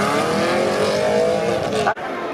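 A Bugatti Divo supercar drives past close by at a supercar event, its engine note rising with a tire-edged whoosh before cutting off sharply near the end.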